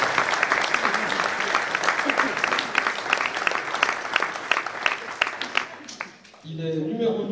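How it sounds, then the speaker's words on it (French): A crowd at a table tennis match applauds a player being introduced, a dense stretch of clapping that gradually thins, then a voice speaks over a PA after it dies away. "Merci d'applaudir Shent 21"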